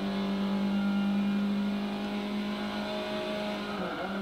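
Race cars on track during an ST class race, a steady, loud engine drone with a sustained tonal hum that shifts slightly as the cars accelerate, no talk.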